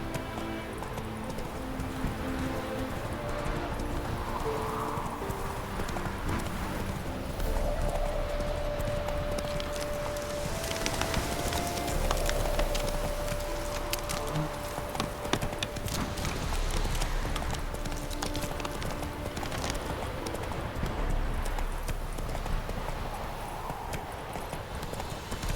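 Roach, a horse in The Witcher 3, gallops in a steady, rhythmic clip-clop of hooves that runs throughout. A faint neigh and light game music sit underneath the hoofbeats.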